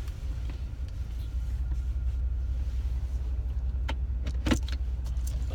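A car is driving along with a steady low engine and road rumble inside the cabin, plus a few faint clicks and rattles toward the end; no one talks.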